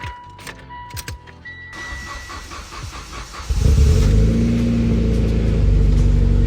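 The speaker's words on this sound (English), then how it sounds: "The EVO is about to get the first start with the new fuel pump." A Mitsubishi Evo X with a new fuel pump cranks briefly amid a few clicks and a faint whine, then fires up loudly and settles into a steady, rumbling idle close by.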